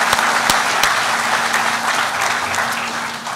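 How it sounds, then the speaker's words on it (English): A large audience claps loudly and continuously at the grand opening of the Choctaw Nation headquarters, a dense, sustained wash of applause with a few sharper claps near the start. "Let's give a big round of applause for our people's home."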